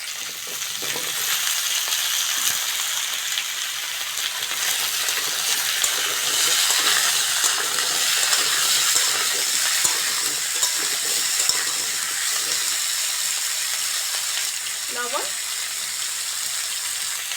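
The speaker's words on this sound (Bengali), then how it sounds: "প্রথমে ওল আর আলুটা ভালো করে ভেজে নেব" Elephant foot yam and potato pieces fry in hot oil in a pan, giving a steady, loud, dense sizzle that holds throughout, with occasional soft stirring scrapes.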